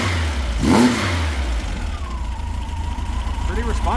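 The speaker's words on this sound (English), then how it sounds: "Give it a quick rev from back here." A vintage 1964 bus engine gives a quick rev, rising briefly and loudly near the start before settling back toward idle, heard up close with a faint whine afterward.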